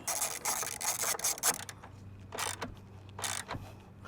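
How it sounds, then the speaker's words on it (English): Socket wrench tightening the battery hold-down bolt on a 2018 Chrysler Pacifica: close, sharp ratcheting clicks in several quick bursts, separated by short pauses and faint handling noise. "use your socket and tighten it right back in"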